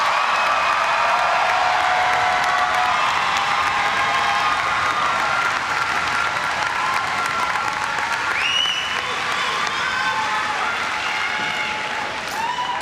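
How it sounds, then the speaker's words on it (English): A large crowd at a spring commencement ceremony applauds the new graduates, with steady sustained clapping and scattered cheers and whoops rising over it. "Everyone, let's give our most recent graduates one more round of applause."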